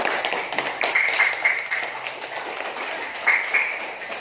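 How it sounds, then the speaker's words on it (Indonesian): Students in a classroom clap for a group that has just presented, a short burst of scattered hand claps with a few sharper taps standing out, moderately loud and fairly close, fading toward the end. "Tepuk tangan sekali lagi"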